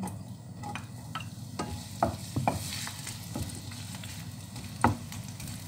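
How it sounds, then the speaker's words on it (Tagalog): Chopped onion fries in a pan with a steady sizzle, and a utensil scrapes and knocks against the pan now and then as it is stirred. "lagay ko muna yung onion natin"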